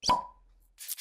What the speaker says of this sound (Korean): 이 맥주 따는 소리를 먼저 나오게 하고